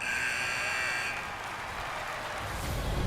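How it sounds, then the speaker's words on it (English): In the NHL 25 hockey video game, the end-of-period buzzer sounds as a steady, bright tone over arena crowd noise, then cuts out after about a second while the crowd hum carries on. "there's the buzzer bringing the second period to an end"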